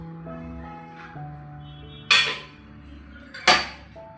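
A container of rice soaked overnight for Kerala-style palappam is opened, with two sharp metallic clinks of a steel lid or vessel against a low background hum.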